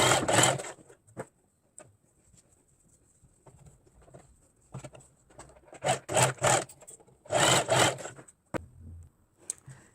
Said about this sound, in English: We need to stitch this up.